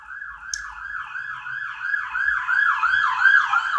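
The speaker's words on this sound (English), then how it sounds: "And then there's sirens and everything." An emergency siren wails outside in a steady rising-and-falling cycle, growing gradually louder and closer over a few seconds with a low vehicle rumble beneath and no talking.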